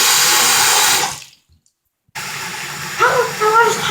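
Tap water runs steadily into a bath, a loud rushing hiss that cuts out briefly to silence and then resumes with splashing, while a voice speaks over the flow.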